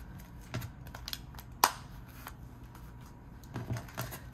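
Paper cash bills rustling and flicking as they are sorted and stuffed into budget envelopes, a series of soft close crinkles and taps with one sharper snap partway through, no talking.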